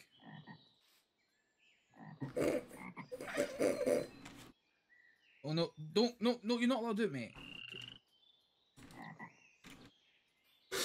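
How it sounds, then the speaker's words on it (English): Frogs croak in a video game, a run of loud, rhythmic croaks in bursts, with someone talking over part of it. "Look at the absolute state of these frogs."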